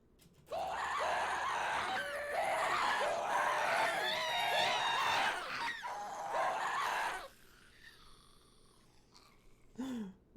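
Ghasts in Minecraft scream and wail in a loud, sustained chorus of shrill, warbling cries for several seconds, then break off to a quiet pause and one short final shriek.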